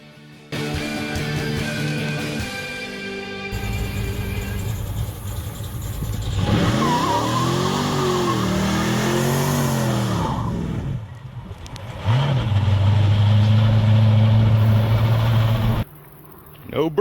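A 1968 Dodge Charger R/T with a 426 Hemi V8 and no traction aids spins its rear tires, the engine roaring loud and sustained through rising and falling revs, with a brief lull before another hard burst near the end.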